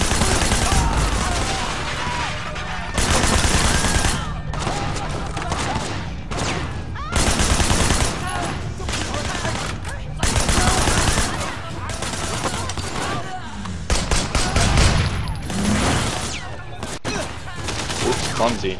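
Gunfire in the video game Sleeping Dogs, with loud, dense bursts of automatic and single shots in repeated volleys. Voices and game dialogue mix in between the bursts.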